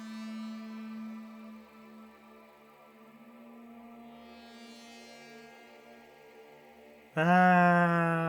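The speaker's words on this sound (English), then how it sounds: "That's the sound of, angelic insects." In the video game Baroque, a steady, eerie high drone hums for several seconds, then a loud, bright choir-like swell of angelic insects bursts in with rising shimmering tones.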